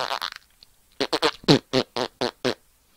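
A voice imitates farting noises with a rapid string of short, wet, sputtering bursts, several close together and fairly loud, with no other talking.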